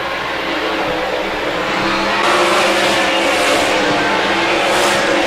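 MSTS 360 sprint cars racing in an opening heat race at Park Jefferson Speedway, a dense, continuous loud roar of many engines that swells louder partway through as the cars pass close.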